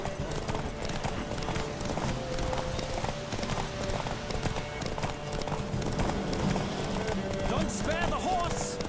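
Horse hooves gallop in a fast, steady clip-clop rhythm in The Witcher 3, loud and continuous under game music and background voices, with a brief whinny near the end.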